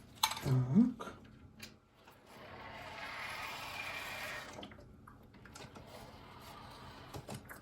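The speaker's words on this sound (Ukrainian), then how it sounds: "зараз трошечки водички ще доляю" Water pours steadily into an egg incubator for a couple of seconds after a few brief clunks and knocks, with quieter handling sounds and a faint trickle afterward.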